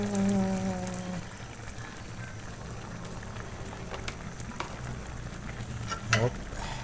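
Banana blossom and shrimp stew with coconut milk being stirred in a pot, a continuous soft bubbling sizzle with scraping stir strokes growing busier toward the end, close up, a brief voice at the start.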